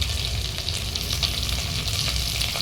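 Soy chunks and vegetables fry in a pan, a close, steady sizzle with crackling spatter throughout and no voices.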